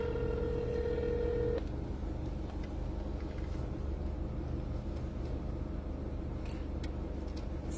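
A telephone being dialed to place a call, with a steady tone at the start followed by a faint rumbling background, no voices present.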